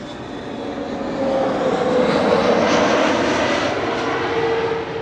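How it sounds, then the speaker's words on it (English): A National Airlines Boeing 747 passes near Amsterdam Schiphol Airport, its engines a loud, broad roar that swells over the first second and stays strong before easing slightly at the end. "National Airlines 747 coming this way."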